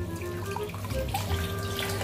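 Tap water running into a sink while rice is washed, a steady close splashing stream with small drips and swirls, no talk.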